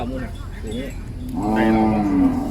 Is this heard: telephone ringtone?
no